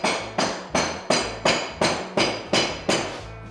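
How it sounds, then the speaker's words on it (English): Hammer pounding repeatedly during a house renovation with new drywall going in, nine sharp, evenly spaced blows about every 0.4 seconds, loud and close with no talking. "He's pounding on something."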